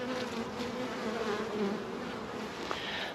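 Honeybees returning to their hives with pollen make a steady, dense buzzing drone outdoors, a close swarm humming continuously throughout.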